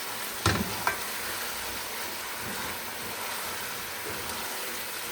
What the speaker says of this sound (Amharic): በዘይቱ ጥብስ ካደረግኩኝ ቶሎ ይበስልልኛል